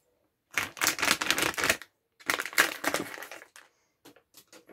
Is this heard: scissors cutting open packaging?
yes